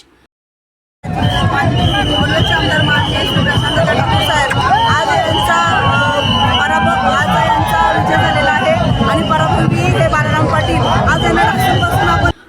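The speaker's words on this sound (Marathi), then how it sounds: "मतमोजणीच्या ठिकाणी लाडक्या बहिणींनी जल्लोष केला" Women supporters celebrate MLA Prashant Thakur's election win at a vote-counting venue, a dense crowd roar of cheering, shouting and babble that starts abruptly after a second of silence and holds steady and loud to the end.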